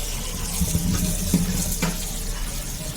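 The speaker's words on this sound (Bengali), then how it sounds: "পাঁচশো গ্রাম জলপাই নিয়েছি এগুলো ভালো করে আমি ধুয়ে নিই" Five hundred grams of olives are rinsed under a running tap, a steady stream of splashing water with a few soft knocks from the fruit and hands, with no talk.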